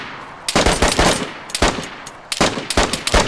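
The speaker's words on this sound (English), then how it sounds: "I need you to shoot the guy that's shooting me." Rapid bursts of automatic gunfire from a squad-based shooter video game, loud and close, with several separate volleys and short pauses between them.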